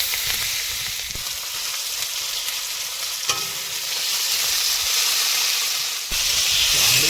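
Spice paste frying in oil in a pot for a fish curry cooked aboard a fishing boat on a Sundarbans river, a steady bright sizzle and hiss with occasional stirring scrapes, close and continuous, no talk.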